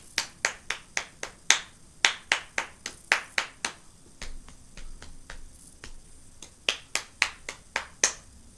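Sharp finger snaps and hand claps in loose bursts of quick rhythmic hits, clear and close, with a short gap midway before the pattern resumes; no talking.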